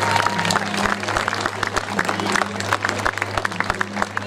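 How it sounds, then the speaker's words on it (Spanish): Crowd applauding at a traditional gaucho parade for a town anniversary, scattered outdoor clapping over a low steady hum, with voices murmuring in the background. "El aplauso."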